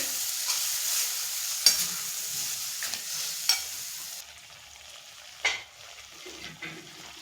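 Chopped spiny gourd (kantola) sizzles in a pan with masala while being stirred, giving a soft continuous fry with a few sharp spoon-on-pan clinks; fairly quiet and close, with no talking.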